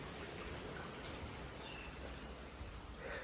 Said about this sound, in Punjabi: ਇੰਨੀਆਂ ਬਾਰਿਸ਼ਾਂ ਹੋ ਰਹੀਆਂ ਨਾ